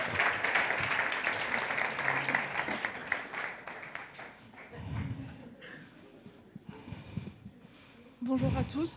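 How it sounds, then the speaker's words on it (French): A congregation applauds Salomé at a baptism service, steady applause for several seconds that then thins, with a voice and a brief noise near the end. "on peut applaudir Salomé"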